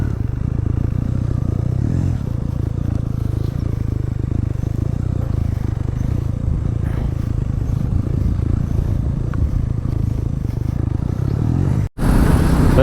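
A Bajaj Pulsar NS400Z motorcycle cruises along an open road toward Kurusadai Island near Rameswaram, its steady engine drone heavy with wind rumble, close and continuous before cutting off sharply near the end.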